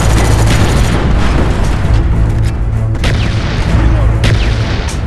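An artillery strike in Call of Duty: Black Ops, with a loud, sustained rumble of heavy explosions and booms close by that runs through the whole stretch with no break.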